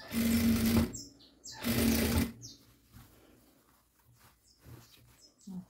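A domestic sewing machine stitches bias binding onto a stretched elastic waistband of a child's high-waisted shorts, running in two loud bursts of rapid stitching, then quieter handling sounds and faint bird calls.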